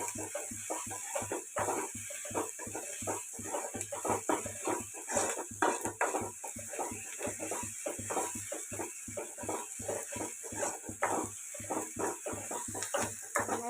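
Onions sauté in a pan toward golden brown, heard mainly as a quick, steady rhythm of spatula scrapes and taps against the pan over a faint background sizzle.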